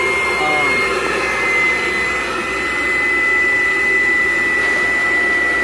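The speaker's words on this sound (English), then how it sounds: "So that's your air blower. It is rather noisy on there." A hot tub spa's air blower runs as a loud, close, continuous roaring whoosh with a faint steady whine, turning the water into a whirlpool; a voice seems to speak faintly under the noise.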